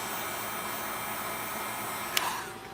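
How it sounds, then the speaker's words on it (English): A hair dryer blows with a steady, broad rushing sound, running continuously at moderate level with a brief click near the end. "I can use a heat gun or"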